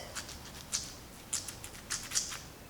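Soft, wet squelching sounds from wet curly hair being squished repeat in a loose rhythm, several quick squishy clicks close to the microphone.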